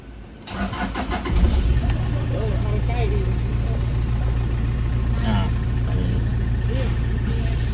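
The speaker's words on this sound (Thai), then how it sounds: "แล้วคันนี้ก็เปิดออน สตาร์ทนะครับ" Mitsubishi Sport Rider pickup engine cranks and catches, then settles into a steady loud idle that continues throughout; voices talk briefly at the start.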